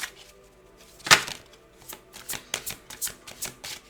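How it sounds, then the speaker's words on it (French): Tarot cards being shuffled and drawn from the deck, a sharp riffle burst near the start followed by a string of soft, rapid flicks and slaps, close and quiet with no talking. "Je vais vous tirer une dernière carte."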